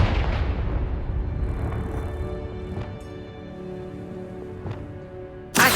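A Confringo blasting spell detonates in Hogwarts Legacy with a booming burst at the start that rings out and fades, followed by faint magical shimmers, then another sharp blast right at the end.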